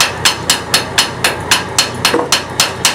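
Loud, evenly spaced hammer blows ring against a metal part of an overtype engine's top valve gear, about a dozen sharp strikes in a steady rhythm, close by.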